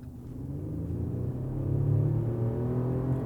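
V6 engine of a 2019 Chevrolet Colorado ZR2 pickup pulling under acceleration, a steady low rumble that slowly rises in pitch and loudness, heard from inside the cab.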